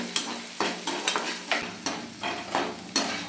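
Onions and green chillies stir-fry in a pan for a ridged gourd palya, with rhythmic spatula scrapes about every half second over a soft, steady sizzle.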